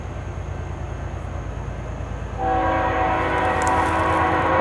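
A southbound BNSF mixed freight train rumbles past steadily, then its horn sounds loud and sustained partway through, layered over the rolling rail noise, with no talking.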